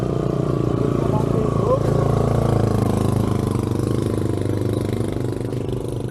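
Engines rumble and idle steadily nearby as several motorbikes arrive on a mountain route in Azad Kashmir, a dense mechanical drone with voices mixed in underneath.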